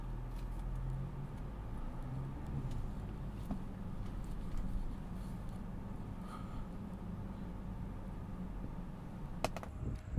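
Mini Cooper S Convertible pulling away and driving at night, a steady low engine and road rumble heard from inside the car, moderately quiet, with a brief clunk near the end and no speech.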